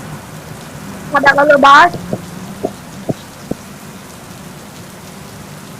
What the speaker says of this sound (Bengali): এই যে বৃষ্টি শুরু হয়ে গেল